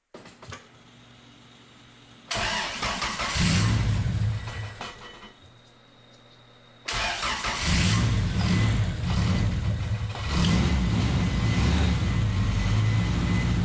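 A Honda Accord CB7 engine cranks and starts, settles to idle, then revs again with a steady power steering pump whine underneath; no talking.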